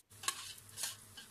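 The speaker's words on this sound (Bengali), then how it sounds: "পেঁয়াজটাকে আমি খুব ভালো করে ভেজে নিয়ে" Sliced onions sizzle in hot oil in a wok, quiet frying hiss with two brief scraping stir strokes of a spatula, faint and close.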